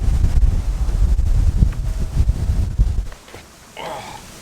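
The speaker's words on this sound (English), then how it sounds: "We'll jump back in the car because it is so windy." Strong wind buffets the microphone outdoors at an electric car charging station, a loud continuous roar and rumble for about three seconds before dropping away as the sound becomes muffled and quieter.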